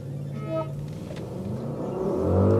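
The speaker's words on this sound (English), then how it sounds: "let's do the drag race and let's see if we can do a 0 to 100 check on this" A Mercedes-AMG GLE 63 S coupe launches hard from standstill to 100 km/h at a test track, its deep engine roar building steadily with rising pitch and gear changes, loud and close throughout.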